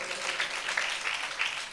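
Applause from a church congregation during a sermon, a steady wash of many hands clapping at moderate distance, fairly soft and continuous with no voices over it.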